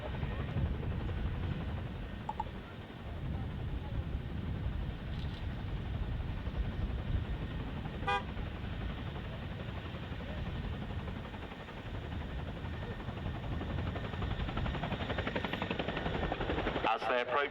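A Chinook twin-rotor helicopter at RAF Cosford air show performs a roll display, its heavy rotor thump and engine drone sustained and fairly distant throughout, with a commentator's voice over a loudspeaker.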